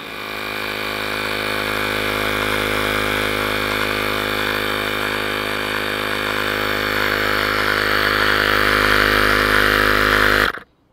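An electric pump inflates the tire of a Kingsong KS18L electric unicycle. A loud, steady motorized drone with a buzzing tone holds for about ten seconds, then cuts off abruptly.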